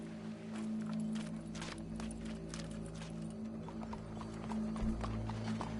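In Red Dead Redemption 2, horse hooves clop steadily and continuously at a walking pace, fairly close, over a low droning musical background.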